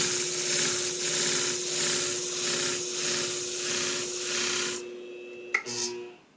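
A long convex grooming shear is worked against an abrasive sharpening surface, giving a steady rasping rub with faint rhythmic strokes and a constant mechanical hum. The grinding stops near the end, followed by a brief metallic clink.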